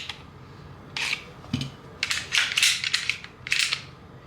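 Close clicks, snaps and rattling of a Glock 19 pistol being handled, several sharp metallic bursts in irregular succession, fairly loud, with no speech.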